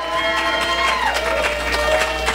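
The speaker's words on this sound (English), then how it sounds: "Just clap. Clap till your hands are sore." Congregation in a church service clapping together, a dense, sustained wash of many hands with some cheering, loud and continuous throughout.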